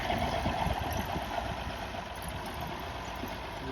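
A freshly restored 1929 Chevrolet International engine idles with a steady, low, rough rumble and a faint vibrating hum, running alone without any talk.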